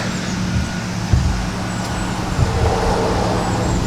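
A 2008-2014 Subaru WRX/STi with a Milltek exhaust and HKS equal-length manifold idles on a cold start, a steady deep exhaust rumble with slight surges, close and continuous with no talking.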